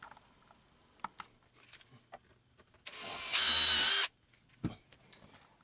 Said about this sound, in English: now I'm going to go ahead and countersink drill this slat into the sideboard